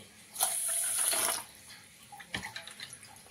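Water pours briefly from a vessel into a cup, measured out for sugar syrup, a short splashing gush followed by a few trickles and light clinks.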